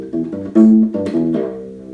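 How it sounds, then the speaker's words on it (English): A bass ukulele played unplugged, a few soft, low plucked notes with a warm, woody tone, close and quiet with no amplification. "They came up with a ukulele that actually plays like a bass."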